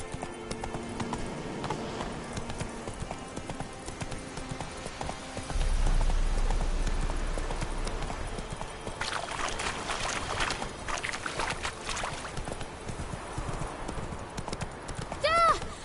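Hooves of the horse Roach in The Witcher 3: Wild Hunt clop in a steady trotting rhythm, with a snort or whinny, game ambience and a voice talking over parts of it.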